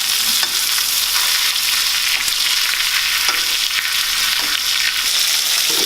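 Seasoned steaks fry in a hot pan, giving a loud, steady sizzle and crackle throughout with scattered pops and no talking.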